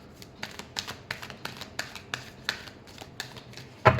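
A deck of tarot cards is shuffled by hand in a series of soft, quick riffles and taps, fairly close and quiet, ending in one sharper snap.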